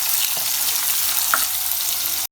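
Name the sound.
onions being sautéed in a pan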